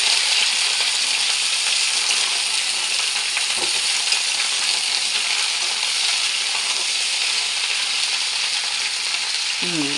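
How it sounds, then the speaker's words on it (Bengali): Mixed vegetables poured into hot spiced oil for a panchmishali curry, a loud continuous sizzle with occasional spoon knocks and stirring scrapes, close and steady throughout. "এখন আমি এর মধ্যে ঢেলে দিলাম সমস্ত সবজিগুলো দিয়ে আমি নাড়াচাড়া করব"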